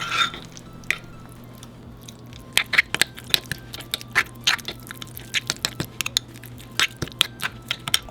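Avocado being mashed and stirred into guacamole in a bowl, giving a run of close, wet squishing and tapping sounds in an irregular rhythm.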